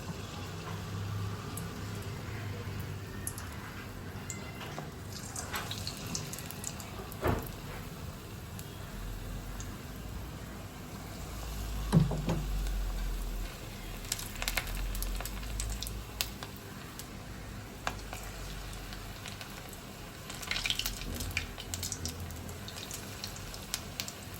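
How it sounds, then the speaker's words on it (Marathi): Manchurian balls deep-frying in hot oil, giving a steady sizzling hiss that runs throughout with scattered small pops and crackles, at a moderate level and with no talking. "हे बघा मंचुरियन आता आपल्याला अशा पद्धतीने फ्राय करून घ्यायचे"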